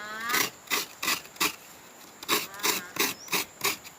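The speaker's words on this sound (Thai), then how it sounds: "นี่ครับรีวิวกระต่ายขูดมะพร้าวไทยประดิษฐ์" Rhythmic rasping scrapes of coconut flesh against a homemade Thai rabbit-style coconut grater, about eight strokes in a steady cadence with a short pause midway, close and clear with no talk.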